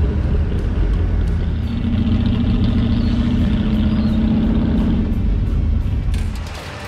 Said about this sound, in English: Check out the sound of the motor.